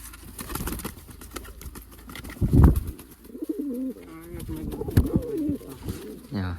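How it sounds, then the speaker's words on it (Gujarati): Pigeons coo nearby in soft, throaty bursts, with a few wing flutters and faint outdoor background. "આ અકડા કબૂતર"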